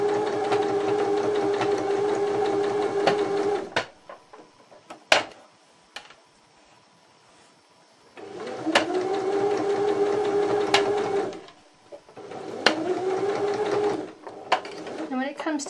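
A sewing machine stitches a strip tote bag in three bursts of steady whirring, each stopping abruptly, with short pauses and a few clicks between them as the fabric is repositioned.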